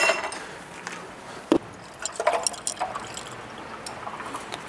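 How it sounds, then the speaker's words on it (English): Ice cubes clink against a glass in a home setting. A few light, sharp chinks, one of them louder, come among soft liquid and handling noises, with no talk. "I have ice cubes today."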